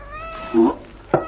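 A cat meows twice, a longer drawn-out call followed by a short sharp one, close by, in an indoor domestic scene.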